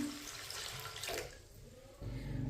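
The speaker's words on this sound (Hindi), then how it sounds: "अब इसमें पानी डालेंगे।" Water pours from a glass into a pot of masoor dal, making a steady, quiet splashing stream that shifts in tone partway through, with no talking.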